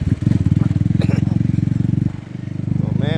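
A motorcycle ridden on a morning trip from Udaipur to Chittorgarh thumps close and loud with a rapid, pulsing engine beat that dips briefly and picks up again.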